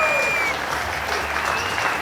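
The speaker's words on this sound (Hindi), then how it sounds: "जोरदार तालियां हो जाए हमारी ज्योति भाभी के लिए" A studio crowd claps loudly and steadily for Jyoti Bhabhi on a comedy show, dense and continuous applause filling the whole short stretch.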